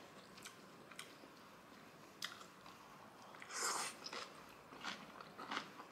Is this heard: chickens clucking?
no